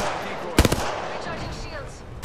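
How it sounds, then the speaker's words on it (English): Gunfire in a video game: a quick cluster of sharp shots followed by another lone crack, set against a steady wash of game background noise. "Shooting. Taking fire."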